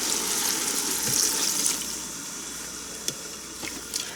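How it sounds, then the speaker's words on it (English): Plain water, about a cup and a half, poured into a pressure cooker pot: a steady, close splashing gush that runs the whole time, with a few small clinks and no talking. "I have about a cup and a half of water here."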